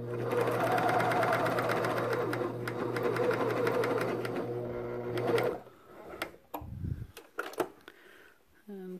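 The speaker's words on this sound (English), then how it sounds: "So this is just sewing like a sewing machine" A coverstitch machine sewing a chainstitch seam runs in a steady, fast mechanical whir for about five seconds, then stops, leaving scattered faint clicks and handling noises.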